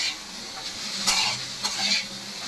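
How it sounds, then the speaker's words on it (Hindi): Shredded chicken being mixed into sautéed vegetables in a hot pan, with a steady close sizzle broken by a few scraping spatula strokes, alone without talk. "सारा चिकन जो है वो इसमें ऐड कर लेते हैं हम। तो इसे अच्छे से मिक्स कर लेते हैं"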